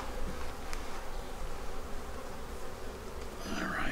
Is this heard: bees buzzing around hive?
yes